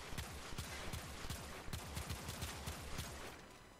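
Rapid bursts of Akvasto Prime gunfire from the video game, a dense, continuous stream of sharp repeated shots with a steady rhythm, loud and close, running throughout with no talk.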